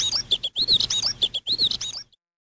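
Sparrows in an animated moral story cry out in distress after their nest is torn down and the eggs break: repeated high, close chirps in three quick bursts, with no talk.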